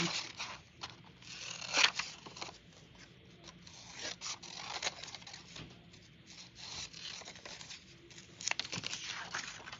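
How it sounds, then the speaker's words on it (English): Paper is torn by hand while making a shovel-shaped ornament, giving quiet, close scratchy rips and rustles in short irregular bursts over a low background hum. "cutting this out, this paper out bigger than the tag so that I can then rip it"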